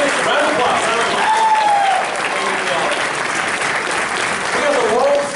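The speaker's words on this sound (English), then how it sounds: "I want you all to give a round of applause real quick" A comedy-roast crowd claps in a loud, continuous round of applause, with whoops and cheering voices rising over the clapping.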